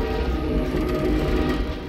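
A train rolling on rails in Half-Life 2 gives a continuous low rumbling drone with faint metallic clatter, steady and fairly close throughout.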